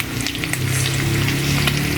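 Pork adobo marinade sizzling and frying in a pan, a continuous dense crackle with bubbling underneath, close and steady throughout with no talking.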